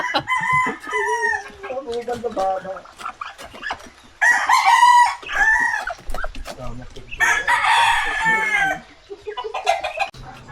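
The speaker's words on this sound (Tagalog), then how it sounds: "Dito na naman si Boy Manok." A rooster crows loudly several times, with harmonic calls rising and falling, mixed with clucking from nearby fowl.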